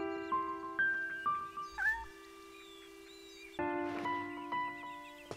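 A cat in the video game Shenmue gives several plaintive meows over a sustained musical drone, the calls rising and bending, with a livelier burst of meowing near the end.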